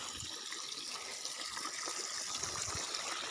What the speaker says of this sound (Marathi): आवाज बघा पाण्याचा कसा येतो खळखळ